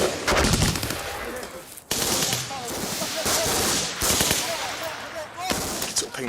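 Rapid bursts of automatic gunfire and single shots ring out in a firefight between Royal Marines and Taliban fighters, loud and close, cracking repeatedly over several seconds with brief pauses and a voice faintly heard amid the shooting.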